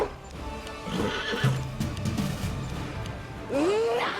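A horse whinnies in the fantasy game Pathfinder: Wrath of the Righteous amid battle sounds and clattering, with a sharp rising-falling neigh standing out loudly near the end.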